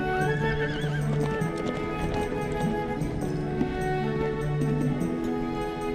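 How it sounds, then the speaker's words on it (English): Wild horses in the Namib desert: hooves clip-clop steadily while horses whinny and neigh close by, a busy herd sound with overlapping calls and snorts. "Some unexpected inhabitants of the Namib are its wild horses."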